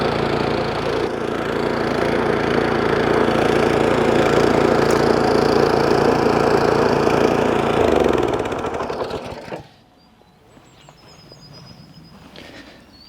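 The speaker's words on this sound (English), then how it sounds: "we just give one pull, and then take the choke off. And that's it, the Scarify is ready to go." A Hyundai HYSC210 petrol scarifier engine runs loud and close right after being pull-started with the choke taken off, rumbling steadily for about eight seconds before dropping away to a much quieter idle.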